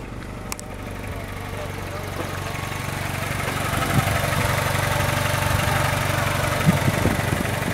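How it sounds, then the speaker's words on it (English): 1998 Honda Civic engine idling with a steady low hum that grows slightly louder partway through, a faint click near the start and voices talking nearby. "I'm gonna rev up the motor."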